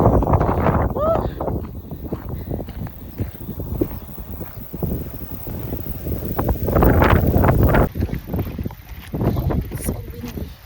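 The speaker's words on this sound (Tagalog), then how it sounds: "So windy." Strong coastal wind buffets the microphone at Cape Palliser by the ocean, a constant loud rumble with gusts surging around seven seconds, while people talk over it.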